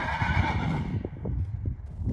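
An upset horse in a small round pen lets out a loud, shrill whinny that fades, followed by several hoof thuds on the ground; no one speaks.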